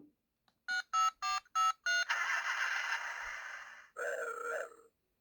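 A Knight Rider KITT toy car plays a button-triggered sound effect: five quick electronic beeps, then a sustained buzzing electronic tone, a short pause and a final burst, close and fairly quiet.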